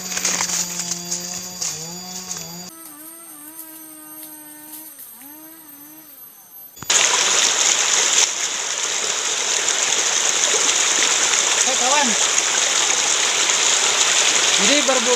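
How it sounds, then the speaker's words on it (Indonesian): A small forest stream flows in a steady, broad rush of water that starts abruptly partway through and stays loud and close, with someone speaking beforehand and over it. "saya menemukan aliran sungai kecil ya"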